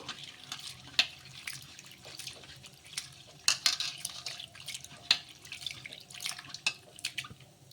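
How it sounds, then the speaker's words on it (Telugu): Flattened rice being rinsed by hand in water, with splashing, dripping and light clinks of a bowl or utensil in irregular bursts, fairly close and moderate in volume, no talking. "కప్పు అటుకులను అయితే ఫస్ట్ ముందుగా అయితే కడిగి పెట్టేసుకోవాలి"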